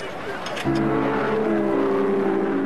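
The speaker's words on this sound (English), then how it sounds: "getting used to his new car, a Mercedes W125." A Mercedes W125 pre-war racing car engine, the German silver arrow racer, starts a steady, loud, harmonic drone after a brief quieter moment, holding a constant pitch close by.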